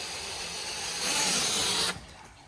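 A power drill whirs steadily drilling brake caliper brackets for a 1958 Ford F100, rising in pitch and pressure for a moment before cutting off, leaving a quieter hum.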